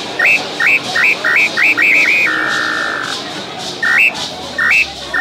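A Jiquitaiá whistle imitates the iambu bird call, loud and close: a series of short, rising two-step whistled notes in quick succession, then one long held tone, a pause, and two more rising notes.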